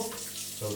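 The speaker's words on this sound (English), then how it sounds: "Let me wash my hands" Tap water runs steadily into a sink while oily hands are scrubbed with soap during pizza making in a home kitchen, a close, continuous splashing stream with no talk.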